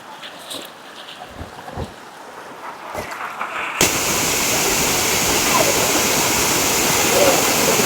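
Quiet outdoor ambience with a few knocks gives way suddenly to the loud, steady roar of Koyyuru waterfall close by that continues to the end.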